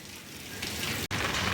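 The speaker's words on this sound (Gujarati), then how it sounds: "તો જો વરસાદ ચાલુ છે" Steady, even hiss of rain falling, continuous and fairly close, with one brief break.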